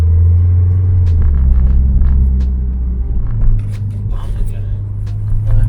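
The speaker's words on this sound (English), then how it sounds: "this is the loudest car ever" A turbocharged Nissan 200SX S14 drives along with a deep, heavy engine rumble heard from inside the cabin, loud and steady with slight shifts in pitch, while occupants talk over it.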